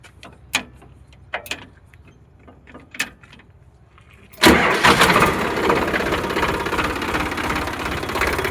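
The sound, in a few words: tractor diesel engine starting and idling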